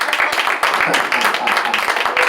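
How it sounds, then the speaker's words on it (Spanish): Church congregation clapping their hands during a Spanish-language sermon, loud, fast and sustained, with sharp individual claps standing out from a dense crowd rhythm and no talking over it. "Dele palmas al Señor, hermano"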